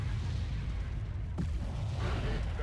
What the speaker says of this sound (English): looks like we've got some artillery coming for their mortars here